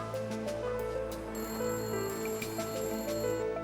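A telephone rings with repeated electronic tones in a steady pattern, fairly faint and heard alone without any talking.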